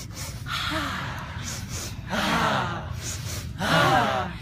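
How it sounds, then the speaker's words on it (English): Shamanic breathwork during a commitment ceremony: three bursts of breath, rising sharp inhales with a drawn-out exhale, the last the loudest, close and without talk. "So we're going to do a 2 inhales, 1 long exhale."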